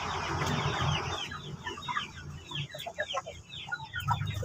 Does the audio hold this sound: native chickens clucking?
yes